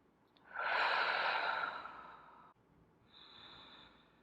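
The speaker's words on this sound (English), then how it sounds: "3 deep breaths." A slow, deep breath taken during a yoga pose, a long, soft, airy inhale followed by a quieter exhale, close and alone with no talk.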